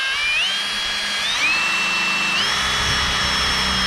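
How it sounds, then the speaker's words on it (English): A power drill bores into a timber roof rafter while a shade sail is being installed, a loud steady whine that rises in pitch in stepped jumps as the motor speeds up, sounding up close. "Drilled my hole, it hasn't gone into the rafter"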